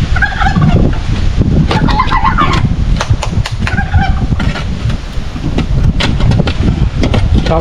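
A turkey gobbles repeatedly in loud, rattling bursts close by, with other fowl and wind noise filling the background throughout.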